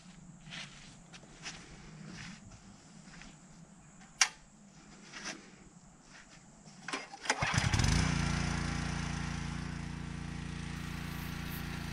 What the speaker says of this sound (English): let's go ahead and turn on the pressure washer